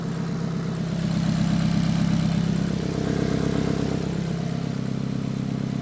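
A Ferrari F430 F1 Spider idles steadily at close range, a low, even exhaust burble holding constant throughout with no revving and no voices.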